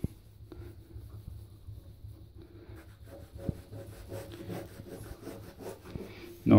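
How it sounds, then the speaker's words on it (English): A baby wipe rubs pencil marks off a bath surface near non-slip stickers, producing soft, close scrubbing and light scratchy strokes that grow busier toward the end, with a louder bump at the finish. "I'm just cleaning all the marks that I've made, just with a simple baby wipe"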